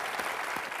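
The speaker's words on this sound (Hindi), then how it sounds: "तालियां बनती हैं।" A television comedy show's studio audience claps in a short, dense burst of applause, steady and close, with no voices.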